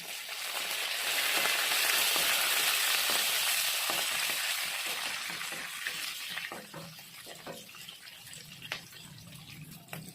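Onions hit hot oil in a pan after mustard seeds crackle, giving a loud hissing sizzle at first that fades to softer frying with scattered pops and stirring scrapes, close by and without speech.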